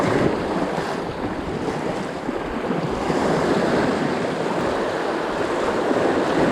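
Sea waves wash and break continuously along a shoreline during surface lure fishing from the shore, a steady loud surf roar mixed with wind noise, with no talking.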